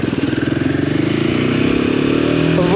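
Royal Enfield Himalayan 450 motorcycle engine running steadily while riding on the road, a loud close throbbing drone that climbs slightly in pitch as it goes, with no talk over it.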